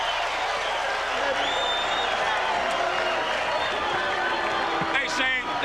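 Boxing arena crowd during round nine of a heavyweight-style prizefight, a steady roar of cheering and applause that fills the whole stretch, with scattered whistles and shouts rising near the end.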